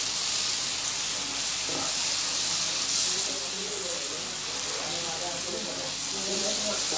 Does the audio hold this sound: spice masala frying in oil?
yes